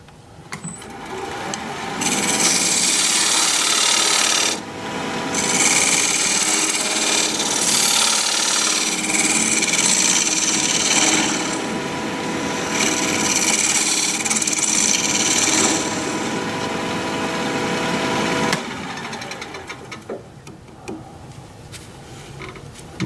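A dovetail tool cuts into spinning curly maple on a wood lathe, giving a loud, harsh scraping and grinding roar that runs almost unbroken for about sixteen seconds with one brief dip, then tails off into quieter shop sounds.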